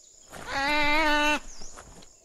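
A goat creature in the Biomutant video game gives one loud, sustained bleat of just under a second, rich and quavering, followed by faint game ambience and soft background tones.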